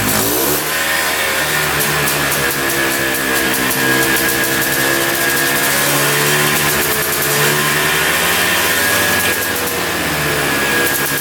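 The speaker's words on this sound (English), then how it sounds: "Watch, it's gonna rev to the moon." A broken-down ATV engine, with carburetor trouble, revs hard and high up close, a loud buzzing whine that climbs and wavers over several seconds before settling, with no talk.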